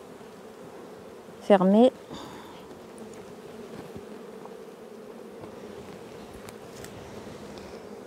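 Honeybees hum around an open beehive during brood frame work, a steady soft buzzing drone throughout, with a man's brief spoken word early on.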